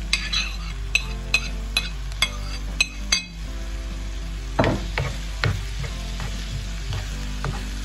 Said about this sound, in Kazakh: Жақсылап помидордың суы шыққанша қуырамыз.